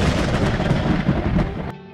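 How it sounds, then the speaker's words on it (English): A loud, deep roll of thunder rumbles continuously, then cuts off abruptly just before the end. "Thunder and lightning."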